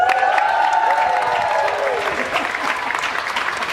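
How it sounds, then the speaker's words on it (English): An audience at a cancer survivors' event breaks into dense applause with scattered cheers and whoops, loud and sustained, fading slightly toward the end. "So if you're cheering for somebody, do some cheering right now."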